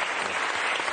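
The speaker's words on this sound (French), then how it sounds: "Donc je voudrais l'applaudir pour ça." Steady audience applause fills a French television broadcast, praising a singer's opera performance in Nabucco. It is dense and even throughout, with no voices over it.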